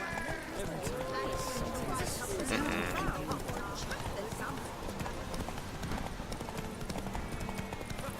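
A horse gallops in The Witcher 3 with steady rapid hoofbeats and a brief neigh, loud and continuous over a game soundscape, while a person talks over it.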